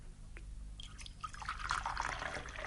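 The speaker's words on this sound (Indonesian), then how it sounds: "Kita dapat menuang teh" Tea is poured into a cup in a quiet trickle that starts as a few soft drips and builds into a light, steady stream of liquid. Nobody speaks.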